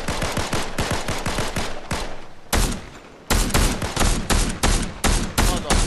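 Fortnite gunfire: loud, close bursts of rapid automatic shots in steady rhythmic volleys, a brief gap with a short fainter stretch, then renewed heavy fire, with no talking over it.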